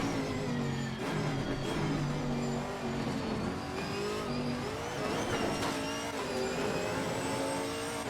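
A Chevrolet Camaro GT4.R race car engine at Monza in the racing game Assetto Corsa Competizione, loud and continuous, revving up and down through gear changes with strong harmonic whine and brief tire noise.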